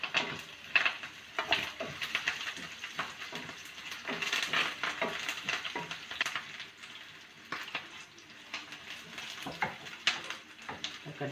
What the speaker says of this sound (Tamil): வெங்காயம் நல்லா வதங்கணும். கருவேப்பிலை சேர்க்கணும்.